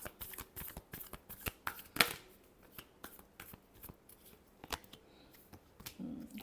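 Tarot cards are shuffled softly nearby: quiet, crisp flicks and slaps come in an uneven rhythm, with one sharper riffle burst near the start.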